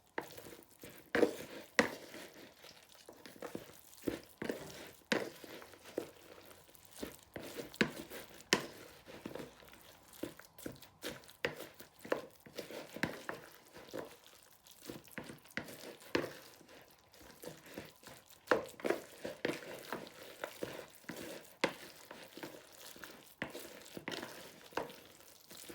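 Fishcake mixture being mixed in a bowl, a steady run of soft wet squelches, scrapes and clicks of a utensil, close and irregular, with no voices.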